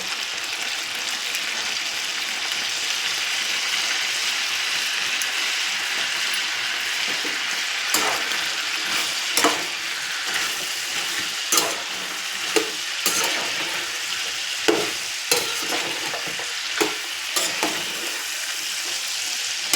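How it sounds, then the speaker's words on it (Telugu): Chicken legs fry with garam masala in a pan, a loud steady sizzle close by, with sharp spatula scrapes and clicks recurring every second or so in the latter half as the pieces are stirred. "బాగా మసాలా పట్టేంత వరకు బాగా కలుపుకోండి"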